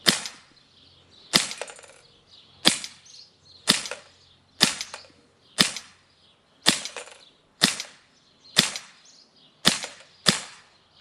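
A Beretta M9A3 4.5mm CO2 BB pistol fires nine sharp, loud cracking shots at a steady pace of roughly one per second, each with a short hiss, close up with no talk.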